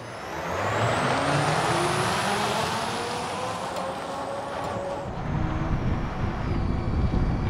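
A heavy Nikola truck hauling an 82,000-pound load during powertrain validation testing drives past with a loud, sustained road and drivetrain roar, a brief air-brake hiss, and a rising whine that fades near the end.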